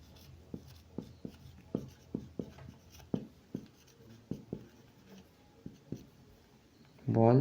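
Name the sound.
writing out a physics solution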